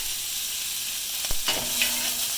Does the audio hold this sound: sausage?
yes